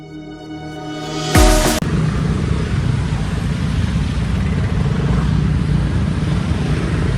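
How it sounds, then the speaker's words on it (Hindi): A motorcycle is pulled out and its engine starts with a loud burst, then settles into a steady, close running rumble that carries on alone. "तो भाई लोग बाइक निकाल रहा है"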